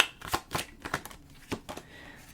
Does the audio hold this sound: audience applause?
no